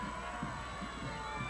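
A large crowd of fans fills the stands at a high school 3A state championship football game, a continuous distant roar of voices and cheering with no clear individual words.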